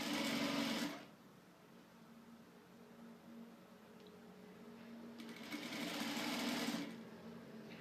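A sewing machine stitches fabric for a baby crib sheet in two short bursts, one at the start and a longer run later, with a quiet hum between them and no talking.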